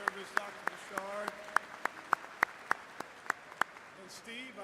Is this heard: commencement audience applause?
yes